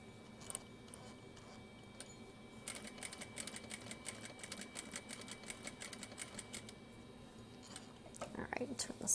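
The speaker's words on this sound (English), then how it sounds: "there's going to be a lot of dart sewing today" A sewing machine stitches darts on a zipper pouch in a home sewing room, a steady run of rapid needle clicks with brief pauses, fairly close and moderately quiet.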